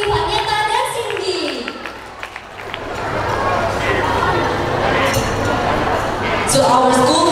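Applause erupts for kindergarten and elementary graduates at the Harapan Utama 2024 graduation ceremony, a sustained broadband patter in the middle, with a voice speaking before and after it.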